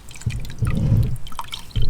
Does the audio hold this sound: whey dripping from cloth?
yes